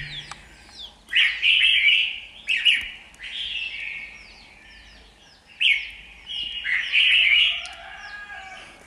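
A net-caught red-whiskered bulbul from Kim Boi, Hoa Binh sings close and loud, with bright chirping phrases broken by short pauses.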